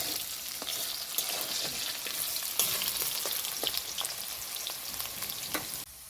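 Potato pieces fry in oil in a pan, a dense, even sizzle held close throughout with light stirring taps scattered over it, then dropping abruptly quieter at the very end.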